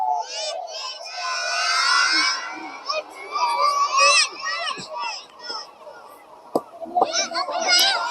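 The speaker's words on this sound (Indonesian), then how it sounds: "Nah, ini namanya suaranya bergema." Young preschool children's voices ring out inside a large mosque, the Masjid Raya Baitul Khairaat, with chatter and shouts echoing off the hall in bursts over several seconds, and an adult voice occasionally heard among them.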